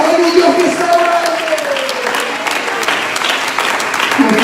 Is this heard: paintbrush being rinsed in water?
no